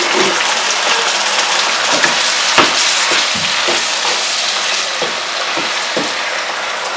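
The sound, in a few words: water added to a pan of frying tomato, sizzling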